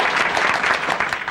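Brief burst of steady audience applause at a live stage show with Groucho Marx, a dense wash of clapping with no voices over it.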